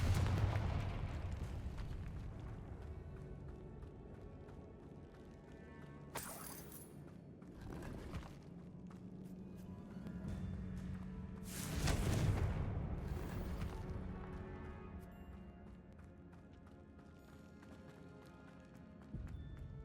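Confringo fire-spell blasts in the video game Hogwarts Legacy burst out as heavy, loud booms that break over a constant roar of game ambience, two big hits standing out amid continuous rumbling action.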